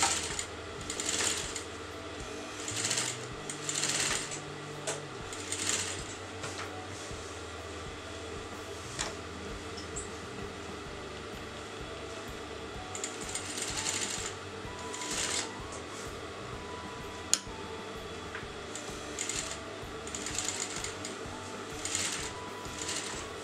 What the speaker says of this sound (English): So now I'm going to sew to the outer edge of the neckline.